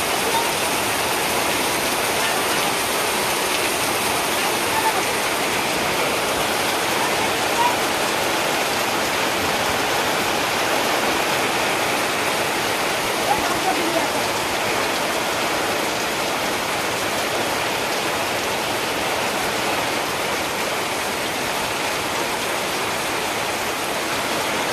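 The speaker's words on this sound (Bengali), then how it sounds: "দেখো কি জোরে জোরে বৃষ্টি হচ্ছে।" Heavy monsoon rain pouring down in a village, a dense, even roar of water that stays loud and unbroken throughout, with no voices.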